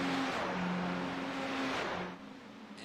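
Ferrari 488 GT3 Evo race cars crossing the line at Monza, a loud, steady high-revving engine drone from close by that eases and fades slightly after about two seconds.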